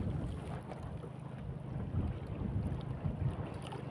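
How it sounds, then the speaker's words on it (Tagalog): Strong wind buffets a small fishing boat on open water, a steady low rumbling roar with gusty surges throughout and no voices. "Lumalakas ng hangin mga idol"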